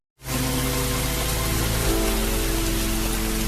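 Heavy rain pours steadily at night in a film scene, a dense, loud, unbroken hiss of drops on surfaces that starts abruptly and holds constant for several seconds.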